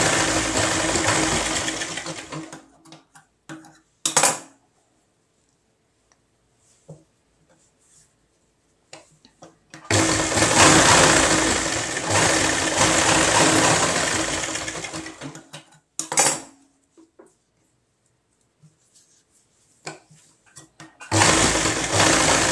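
A sewing machine stitches the front part of a lined 32-inch belt blouse in three loud bursts of rapid, steady whirring, separated by quiet pauses with faint handling clicks.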